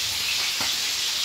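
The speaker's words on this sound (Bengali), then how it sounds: "এটা ইলিশ মাছ ভাজা হচ্ছে" Hilsa fish frying in hot oil gives off a steady, dense sizzle, close and continuous, with no talking.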